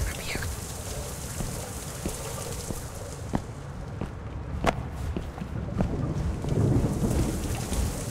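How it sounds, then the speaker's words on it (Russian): Video game rain and thunder in The Joy of Creation: Reborn: steady rain hisses throughout while thunder rumbles low, with sharp drips or cracks scattered over the downpour. "Блин, это сраный дождик, короче, вообще тут не нужен."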